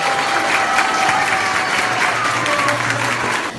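Loud, sustained applause from an audience at a women's event in Ereğli, Turkey, welcoming a speaker onto the stage, a steady dense clapping that fills the whole stretch without pause.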